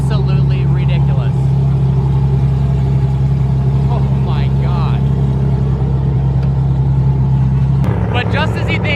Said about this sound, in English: This GTR sounds absolutely ridiculous.